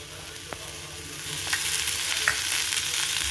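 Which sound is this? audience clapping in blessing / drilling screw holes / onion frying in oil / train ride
onion frying in oil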